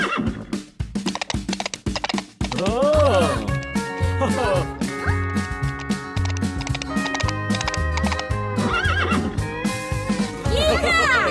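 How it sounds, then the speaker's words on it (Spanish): A cartoon horse whinnies loudly with rising and falling neighs over clip-clopping hooves, set within an upbeat Spanish-language children's farm song with sung vocals. "Y en esa granja tiene caballos. ¡Ia, ia, oh! Relincho aquí, un relincho allá"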